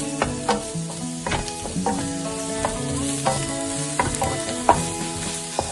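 Mushrooms and vegetables stir-fried in olive oil, a steady close sizzle with repeated scraping and stirring clatters from the pan, heard alone with no voices.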